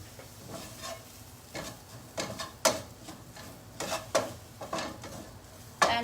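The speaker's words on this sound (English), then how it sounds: "So I'm just going to roughly mash these potatoes" Cooked potatoes being roughly mashed in a pan for a vegetable dish, giving a string of soft scraping, squishing strokes at an uneven pace, close up, with no talking.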